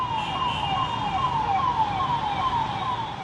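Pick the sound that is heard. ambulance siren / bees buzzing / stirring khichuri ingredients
ambulance siren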